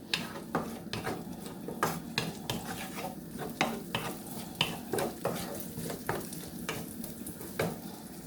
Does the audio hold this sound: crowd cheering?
no